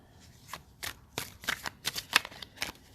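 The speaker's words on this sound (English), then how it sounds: "Let me give a few shuffles here" Tarot cards being shuffled by hand, a quick series of crisp riffling bursts, close and fairly loud, with no talk.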